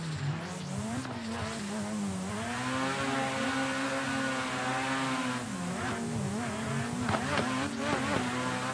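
A drifting car in a racing video game screams through sustained high engine revs with repeated clutch-kick surges and intermittent tire squeal, loud and continuous throughout.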